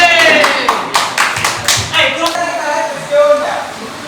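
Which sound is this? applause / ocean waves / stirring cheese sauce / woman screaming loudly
applause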